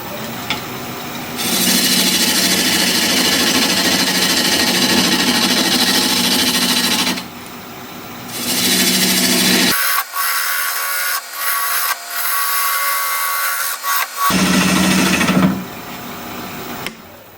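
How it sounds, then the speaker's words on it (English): A wood lathe spins a log for a vase while a spindle roughing gouge takes it down fast, giving a loud, steady rasping cut that runs in long stretches, broken by brief pauses and quieter gaps near the end. "I'm going to switch to a spindle roughing gouge to take some of this down in a hurry."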